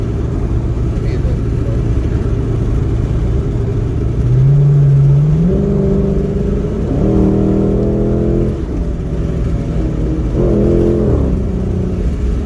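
A 2006 Dodge Charger R/T with a straight-pipe exhaust on a flex pipe, not yet welded, rumbles at idle, then revs with a rising, throaty note followed by further rev bursts, loud and close, while people talk over it.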